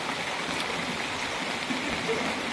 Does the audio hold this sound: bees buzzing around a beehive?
no